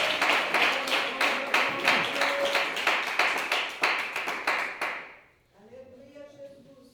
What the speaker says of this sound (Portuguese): Mais palmas para o Senhor Deus.